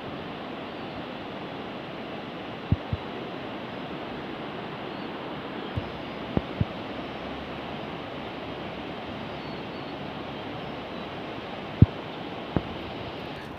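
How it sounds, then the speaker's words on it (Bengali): A river in Sangti Valley flows past as a steady, fairly distant broadband rush, soft and unchanging, with a few sharp knocks and taps scattered over it and no talk. "একটা সুন্দর নদী বয়ে যাচ্ছে, যার আওয়াজটা আসছে"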